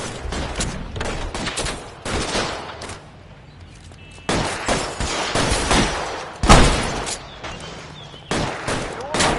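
Heavy volleys of gunfire in a PS4 game are aimed at vehicle tires, coming as loud repeated bursts with short gaps between them, with voices in the mix.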